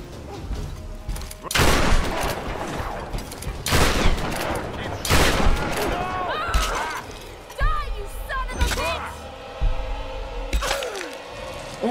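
Repeated heavy gunshots and impacts in the 2013 Tomb Raider video game, loud bursts spaced a second or two apart, with a player's voice talking between them.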